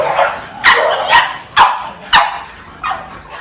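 Several dogs bark at a kennel camp, about five sharp, loud barks spaced irregularly across a few seconds, close by with no talking.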